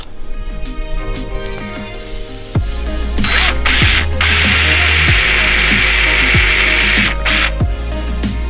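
A power drill whirs and grinds steadily into the wall of an Iveco Daily camper van, with a mechanical clicking and a rising buzzing whine partway through, close and loud.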